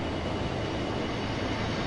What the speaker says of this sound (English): Oh look, train